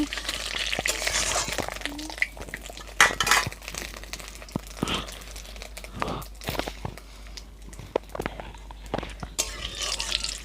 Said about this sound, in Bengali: দিয়ে দেবো তেজপাতা শুকনো লঙ্কা আর সাদা জিরে ফোড়ন নেড়ে চেড়ে নেবো